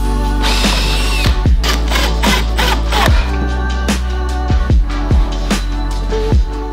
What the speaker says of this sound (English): To attach the mantle, I simply drilled pilot holes through the top of it and then used wood screws to secure it to the 2x4.